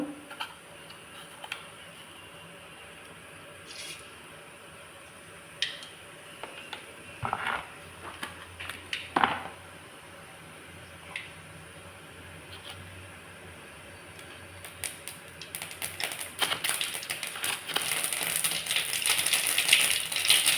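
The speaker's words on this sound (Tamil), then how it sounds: "கடுகு பொறிஞ்சிச்சு" Mustard seeds popping in hot oil in a pan while tempering a peanut chutney, scattered sharp crackles and ticks that build into dense, steady spluttering toward the end.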